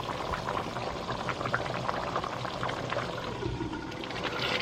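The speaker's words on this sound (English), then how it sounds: "now we're going to allow that to cook down to a nice semi-thick gravy" Beef stew gravy bubbling and cooking down in a pot, a dense continuous simmer of popping bubbles at a steady, fairly loud level with no talking.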